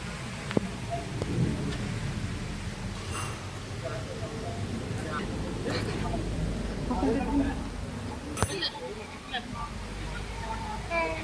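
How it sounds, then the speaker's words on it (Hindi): Heavy rain pours steadily outside a temple, with a broad rumbling wash and a few sharp cracks suggesting thunder, while people talk underneath throughout. "बाहर बारिश बहुत ज़्यादा हो रही है, बहुत ज़्यादा ही बारिश हो रही है।"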